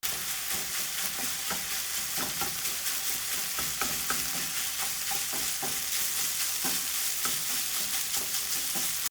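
Pork seasoned with five-spice sizzles as it browns in a pan alongside onions and garlic, a steady close-up frying hiss scattered with crackles and the occasional stir, with no voices.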